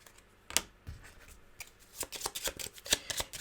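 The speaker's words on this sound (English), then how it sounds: "and then we have to shuffle" A deck of playing cards being shuffled during a solo tabletop game of Heat: Pedal to the Metal, with sharp riffling bursts and scattered flicks and taps, close and clear with no talking.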